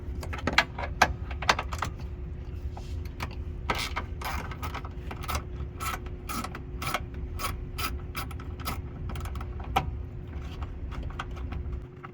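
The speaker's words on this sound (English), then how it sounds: "socket on a ratchet to remove the 10mm bolt that is down here" A socket ratchet loosens a 10mm bolt on a 2nd-generation Lexus IS250/350 rear strut, giving rapid close clicking in irregular bursts over a low steady hum.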